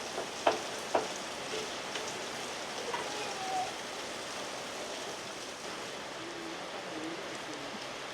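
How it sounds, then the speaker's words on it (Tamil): Chicken, tomato and green chilies cook in a pan without oil, giving a soft, continuous sizzle and bubbling with a couple of faint clicks near the start. "இந்த தக்காளியும் சிக்கனும் கொஞ்சம் தண்ணி விடும், அந்த தண்ணியிலே வந்துட்டு நல்லா வெந்துடும்."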